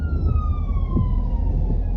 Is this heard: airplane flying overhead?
no